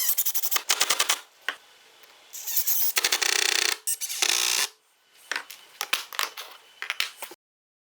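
Pocket-hole screws are driven to fix the top stretcher of an expanding router table in a small workshop: several loud bursts of a power drill whirring, broken by short pauses and quick clicks, close by.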